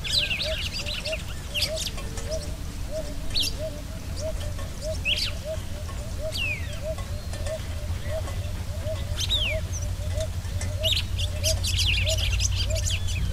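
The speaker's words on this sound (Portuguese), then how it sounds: "dois bandos mistos de marreca irerês e pato de cristas" Mixed flocks of white-faced whistling ducks and crested ducks on a lagoon give steady repeated soft calls, with sharper whistles and squawks breaking in now and then over a constant outdoor hum.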